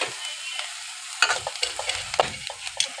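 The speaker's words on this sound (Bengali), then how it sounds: "কড়াটা গরম হয়ে গেছে আমি কাঁচা লঙ্কা পেঁয়াজ কুচি এগুলো দিয়ে দিলাম কড়ার মধ্যে" Green chilies and chopped onion hit a hot wok, a bright close sizzle broken by a rapid series of scraping, clattering stirs.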